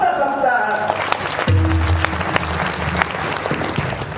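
Audience applause at a kirtan, a loud burst of clapping from a crowd that continues for a few seconds amid voices.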